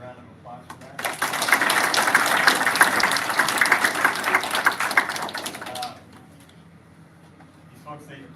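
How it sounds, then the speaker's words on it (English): An audience claps for the National Guard at a school DARE graduation. The dense, steady applause lasts about five seconds, with faint talk before and after it. "They deserve a round of applause for that."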